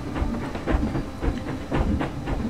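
A roller coaster train in the Planet Coaster game rolls along its track with a steady rumbling clatter and rhythmic clicks, loud and continuous, with no voices.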